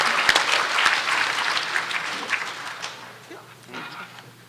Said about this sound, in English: Look, give yourself a round of applause.